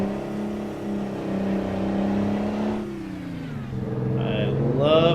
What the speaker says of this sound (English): I love the sound of that motor.